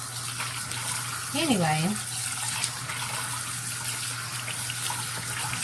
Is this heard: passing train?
no